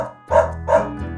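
A dog in a Minecraft roleplay game gives two quick, clear barks in close succession, loud and near, with no talking over them.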